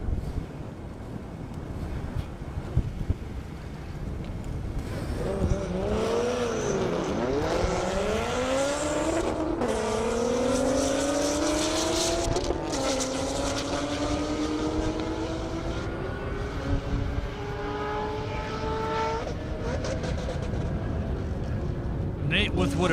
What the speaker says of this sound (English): what appeared to sound like a misshift or something in the Corvette